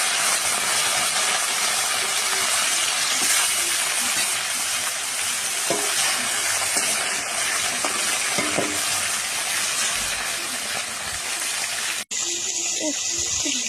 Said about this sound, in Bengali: এই যে এখন আমি এগুলো ভাজবো, একটা একটা করে দিয়ে দেবো কড়াইতে।